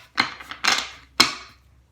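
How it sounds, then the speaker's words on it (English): Tarot cards being shuffled and split by hand, three short crisp riffling bursts close by, each lasting a fraction of a second with quiet gaps between. "I'm shuffling the cards"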